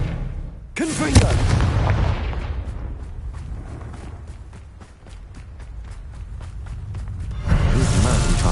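Repeated Confringo blasting-spell explosions go off in the game Hogwarts Legacy, with loud booming bursts and a rapid run of crackling impacts over several seconds, then a heavy blast near the end.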